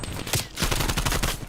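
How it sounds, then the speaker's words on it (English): Rapid SMG gunfire bursts in an esports video game match, a dense run of close, loud shots lasting the whole moment. "Rhythms really trying the distance shots with that SMG of his"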